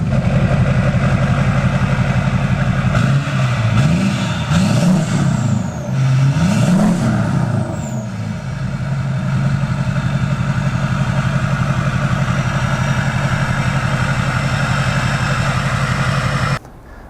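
Diesel truck on its stock turbo with a 4-inch exhaust, the engine idling loudly and nearby before several revs swell and fall back, the turbo whine rising with them, then settling to a steady idle.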